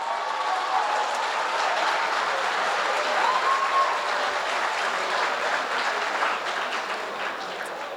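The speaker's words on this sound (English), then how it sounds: "Another round of applause, please, for them." Audience applause fills a gala dinner hall, a steady, dense wash of many hands clapping at close range that holds evenly throughout before easing slightly at the end.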